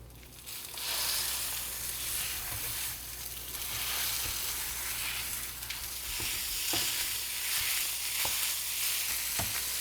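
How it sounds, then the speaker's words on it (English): Sausage for a holiday stuffing browns in a stovetop pan, a steady loud sizzle and crackle running throughout with occasional sharp stirring scrapes and pops, no voices. "Now I need to cook my sausage"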